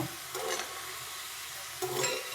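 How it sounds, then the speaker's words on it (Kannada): A ladle stirring a frying mixture in an iron pan gives two soft scraping passes over a low, steady sizzle. Close and quiet, with no voices. "ಈ ಥರ ಒಂದು ಸ್ಪೂನು ಸೌಟ್ ತೊಗೊಂಡು ಈ ಥರ ಮಾಡ್ತಾ ಇರಬೇಕು. ಆವಾಗ ಅದು ಚೆನ್ನಾಗಿ ಫ್ರೈ ಆಗುತ್ತೆ ನೋಡಿ"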